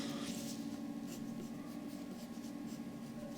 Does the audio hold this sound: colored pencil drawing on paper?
yes